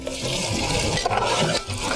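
Water is poured into a pan of mutton korma masala with coriander so the mixture can roast, giving a steady, close rushing and splashing noise that runs continuously with no talking.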